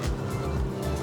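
A 2025 Acura TLX Type S sport sedan with a V6 engine, downshifting through the paddle-shift gears: a deep, throaty engine rumble pulsing with the gear changes, heard from inside the car without talk.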